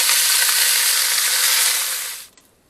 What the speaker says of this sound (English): she's going to saute the ribs